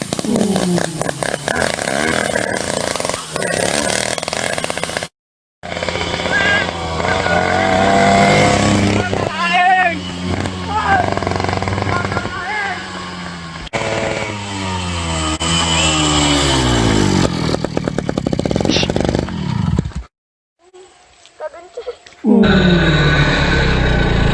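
A motorcycle engine runs and revs in bursts, loud and close, with a rasping tone. Excited voices talk and shout over it in a comic street scene, and the sound is broken by several sudden cuts.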